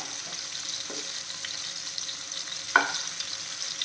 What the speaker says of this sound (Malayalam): ഇനിയിപ്പോൾ നമ്മൾ ഫ്ലെയിം കുറച്ച് വെച്ചിട്ട് ഇതൊന്ന് ചെറുതായിട്ട് വഴണ്ടിടണം.